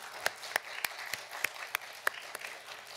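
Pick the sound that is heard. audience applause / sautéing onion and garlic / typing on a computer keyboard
audience applause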